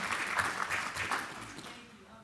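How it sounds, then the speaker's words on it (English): Applause from an audience, fairly faint and fading out over a couple of seconds. "Give her a round of applause again."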